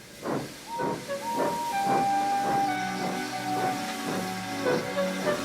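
Henry the steam engine chuffs and hisses steam in a steady rhythmic series of puffs, with a sustained whistle-like tone running through the middle, moderately loud and alone.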